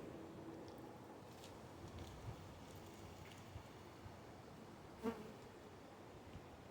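Honey bees buzz around a hive fitted with bottom observation panel boards, a faint, steady hum with light outdoor wind in the background.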